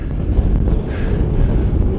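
Wind buffets the microphone on a windy hilltop, a steady low roar with gusty rumble that fills the whole two seconds, with no voices.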